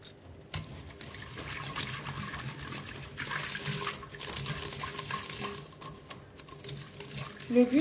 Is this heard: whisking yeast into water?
yes